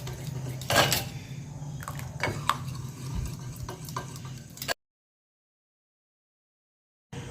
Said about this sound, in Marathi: छान मिक्स करून घ्यायचं